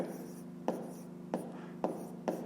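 A pen or pencil writes by hand on paper during a math exercise, soft scratchy strokes with a few sharper taps, quiet and close.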